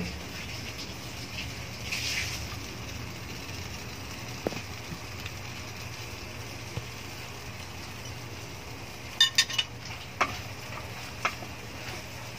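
Green onion leaves go into spicy squid frying in a pan, producing a quiet, steady sizzle with a few faint clicks and taps of utensils near the end.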